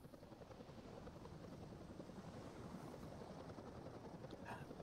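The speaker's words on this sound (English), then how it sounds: "The helicopter lands" Helicopter rotor and engine drone during a landing in the video game SOCOM U.S. Navy SEALs, a steady dense whir that holds loud and constant throughout with no voices.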